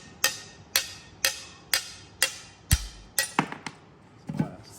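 Scored stained glass is tapped to break it along curved cuts, producing a run of sharp, evenly spaced knocks that turn into quicker, irregular clicks toward the end. The sounds are close and clear with no talking.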